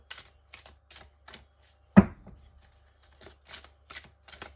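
Tarot cards are drawn and laid out on a table in a nine-card spread, making soft crisp card slaps in small rhythmic clusters, with one heavier thump partway through and quiet gaps between.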